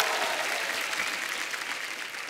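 Dense, steady applause from a studio audience greeting a ghazal singer on a comedy show stage, a continuous wash of many hands clapping that fades slightly toward the end.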